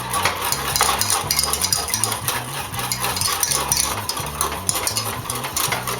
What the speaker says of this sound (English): And you stir it in, whisk it in,